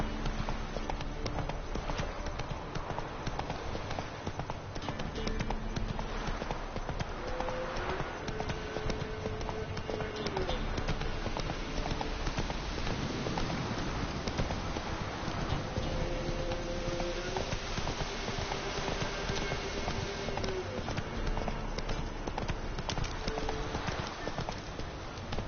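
Horse Roach galloping in The Witcher 3 video game, a continuous rapid clip-clop of hooves heard steadily over game music, with faint voices at times.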